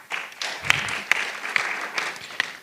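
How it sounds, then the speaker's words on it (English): A short burst of applause from a small conference audience, scattered claps with a few louder individual hand claps standing out. "A clap for her."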